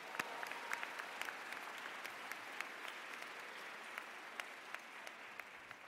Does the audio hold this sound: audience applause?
yes